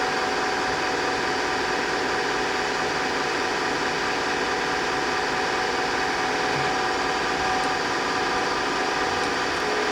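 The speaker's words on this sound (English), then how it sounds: "we lift the job up and start doing a little pilot hole" A steady, continuous mechanical whir of a small drill centre-drilling pilot holes in metal for M3 threads on a slotted base, a constant machine drone with no pauses or voices.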